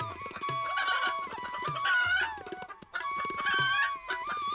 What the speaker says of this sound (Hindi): लेकिन अंडे देने के बजाय मुर्गी जोर जोर से आवाजें निकालने लगी।